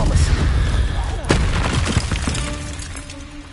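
Spell-casting blast from Hogwarts Legacy: a dense burst with a sharp crack near 1.3 seconds over a busy, loud combat mix, with a shouted voice in the fight.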